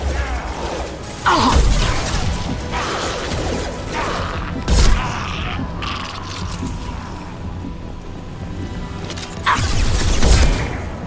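Mass Effect 2 combat brings scattered bursts of gunfire mixed with booms and crashing impacts, loud hits at the start, the middle and the end, with mechanical noise between them and no talk.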